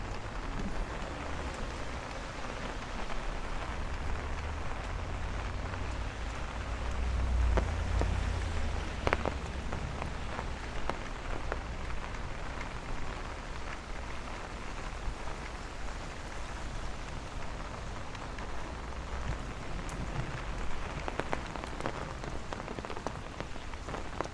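Heavy rain pours down steadily during a thunderstorm on a Brooklyn street, a dense continuous hiss of drops striking surfaces close by, with a faint low rumble of thunder underneath and no voices.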